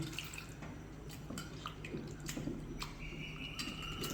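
A glass of water poured into a tamarind mixture for kuzhambu, with soft trickling and splashing and scattered drips, fairly quiet and close.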